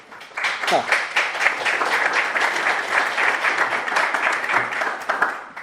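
A lecture audience claps warmly to welcome Peter Jennings, steady sustained applause building quickly and holding loud throughout, with a brief voice near the start.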